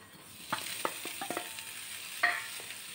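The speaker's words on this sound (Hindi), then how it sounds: "आलूओं को हमें मसाले के संग अच्छे से भून लेना है" Mashed boiled potatoes with spices frying in a pan as they are stirred and pressed, a low sizzle under scattered scraping clicks of the spatula, with no talking.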